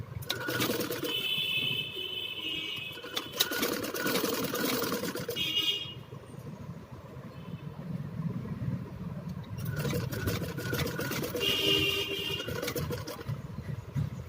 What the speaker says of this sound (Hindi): यहाँ से हम इसकी स्टिचिंग ले लेते हैं